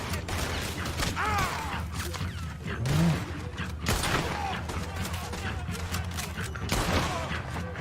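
Several heavy shots from a powerful gun in Red Dead Redemption 2, spaced irregularly over a steady game background with creaking mechanical handling between them.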